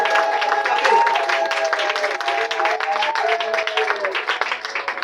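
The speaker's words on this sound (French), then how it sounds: "Acclamez pour cette très bonne nouvelle" A crowd applauds, a dense wash of clapping that holds steady for about five seconds, with sustained tones and voices running through it.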